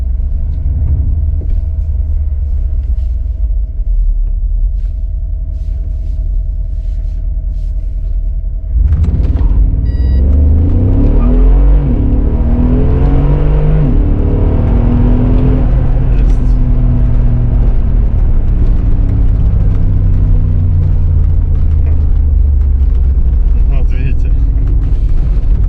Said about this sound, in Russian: Сейчас мы попробуем с 2000 оборотов стартануть.